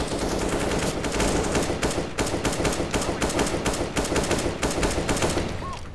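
Rapid bursts of automatic gunfire from Counter-Strike, loud and continuous for about six seconds, with repeated rattling volleys broken by brief gaps.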